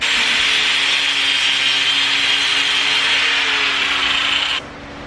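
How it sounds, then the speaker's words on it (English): An angle grinder cutting through a car oil line fitting during a Nissan GTR reassembly, a loud steady high-pitched grinding whine that holds for over four seconds and then cuts off abruptly, with no talking. "he loves using the angle grinder"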